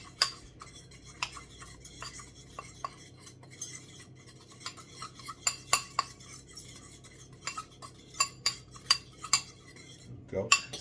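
A spoon stirs and clinks against a bowl while mixing seasoned flour with thyme and Old Bay, giving a series of irregular sharp taps and scrapes that quicken toward the end.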